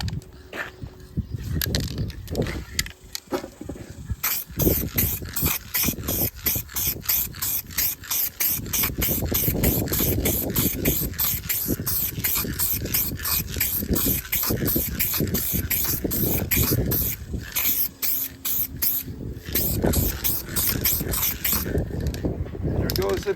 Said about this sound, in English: So let's spray this on.